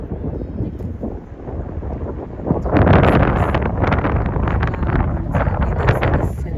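Strong coastal wind at Sidi Bou Said, Tunisia, buffets the microphone in a continuous roaring rumble that swells louder partway through, with no voices.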